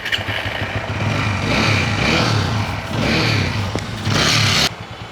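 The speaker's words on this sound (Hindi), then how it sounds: "आज में RTR 200 है, इसमें इंजन में साउंड है।" A TVS Apache RTR 200 motorcycle with an engine noise fault and oil consumption revs repeatedly from a steady idle. Three rising bursts come up close and loud, then fall back, with no talk.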